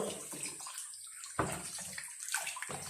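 Shower water running and splashing in bursts, close and fairly quiet, with brief gaps between gushes.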